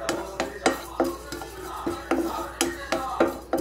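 Sesame seeds and spices being roasted in a pan, a spoon scraping and stirring in a regular rhythm of sharp strokes roughly every third of a second, close and clear with no talk.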